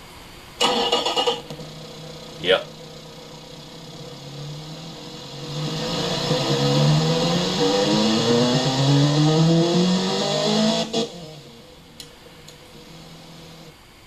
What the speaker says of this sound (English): I just don't like a way inline 4-cylinder sounds.